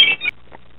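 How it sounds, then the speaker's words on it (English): A telephone rings indoors, one short electronic trill loud and alone for about a third of a second before it cuts off into quiet room tone. "you heard the phone ringing"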